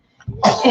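A single short, sharp sneeze-like burst from a person nearby, quick and forceful with a noisy rush of breath.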